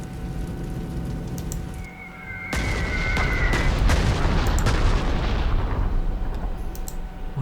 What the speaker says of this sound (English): This guy here, we can drop the bomb on him as well